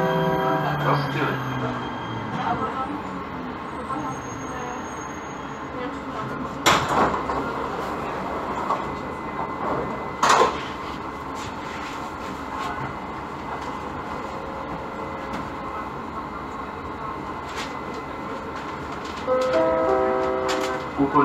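A Prague Metro line C train runs between Háje and Pražského povstání, its low steady rumble broken by occasional sharp clanks and rattles from the cars, with a voice heard now and then.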